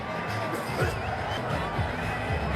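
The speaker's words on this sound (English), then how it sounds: "Got the crowd going, the Indian side of it" Cricket crowd at an India versus Pakistan Emerging Teams Asia Cup match roaring after a catch, a dense, continuous cheer with voices rising and falling through the noise.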